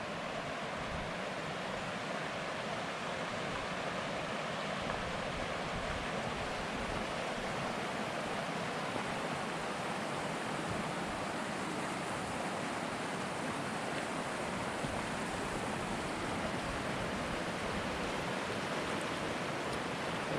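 The Middle Fork of the Ogden River flows steadily as a broad, even rushing hiss of water, constant and moderately soft throughout with no voices.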